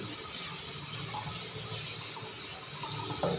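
Tap water runs steadily into a sink while vegetables for a Thai steamed fish dish are rinsed, a continuous close rushing splash with slight shifts as the produce is handled.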